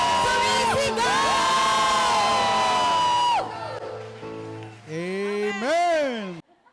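A church congregation at a healing service shouts and cheers together in a loud, sustained burst, with overlapping raised voices and whoops, then a shorter second wave of excited shouting.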